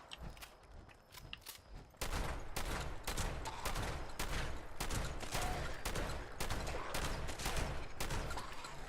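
Rapid automatic gunfire in the Fallout 76 video game: a quieter stretch, then from about two seconds a loud, sustained string of closely spaced shots fired in steady bursts, with no talking.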